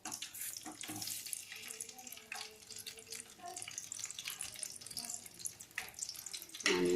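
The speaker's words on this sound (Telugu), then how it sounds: "ఇప్పుడు ఆనియన్స్ వేస్తున్నాను." Onions dropped into a cup of well-heated oil hiss and sizzle steadily as the base for mutton biryani is started, a continuous bright crackling close by with no talk.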